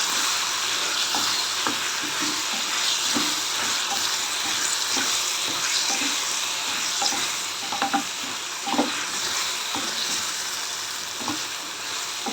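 A capsicum and tomato gravy sizzles steadily in a pan while a spoon stirs it, with soft scraping clicks over the continuous close frying hiss.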